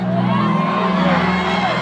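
A loud concert crowd at Lugogo cheers and applauds for a singer on stage, a dense, continuous roar with whoops and shouts and a sustained musical drone underneath.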